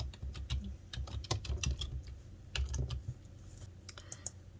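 Rapid, irregular clatter of keys on a computer keyboard, close and fairly quiet, in short bursts with brief pauses and no voices.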